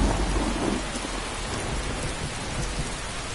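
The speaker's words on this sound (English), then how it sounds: "Man, this rain is so loud" Heavy rain pours in the video game Skyrim, set in the wilderness, a loud dense wash of drops with a low thunder rumble at the start that fades under the steady downpour, with no voices.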